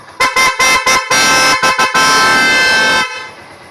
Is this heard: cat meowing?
no